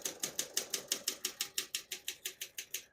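Steady rhythmic clacking of keys on a 1958 Olympia SM3 portable typewriter, about six strikes per second, close and crisp, with no voices.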